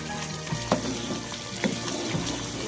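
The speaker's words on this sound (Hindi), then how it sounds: "इसके हम 10-15 मिनट भुनाई करेंगे" Paya cooking in ginger garlic paste and spices sizzles steadily in a pan, a continuous frying hiss with a few sharp clinks of a stirring spoon.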